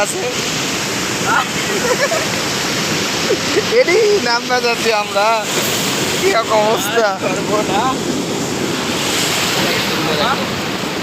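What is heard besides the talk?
strong water current at a rubber dam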